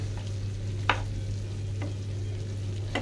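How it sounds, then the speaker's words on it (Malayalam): Broccoli and capsicum cooking in a pan, stirred with three spaced spatula scrapes over a soft sizzle and a steady low hum. "അപ്പോൾ നമുക്കൊന്നും കൂടി ഒന്ന് ഇളക്കി കൊടുക്കാം."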